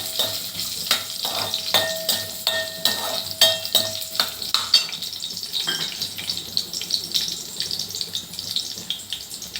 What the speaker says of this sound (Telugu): వన్ టీ స్పూన్ ధనియాలు ఫ్లేమ్ని సిమ్లో పెట్టుకొని ఫ్రై చేసుకుందాం